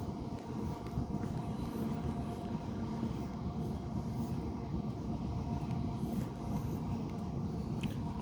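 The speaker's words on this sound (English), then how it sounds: "So train moving by at the top there." A train rumbles past continuously, a steady low roar of wheels on rails that stays fairly constant throughout, with no talking.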